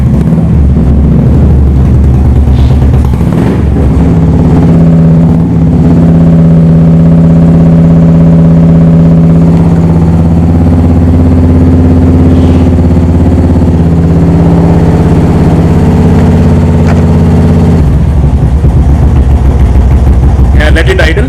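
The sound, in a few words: motorcycle with Royal Enfield Thunderbird 350 engine idling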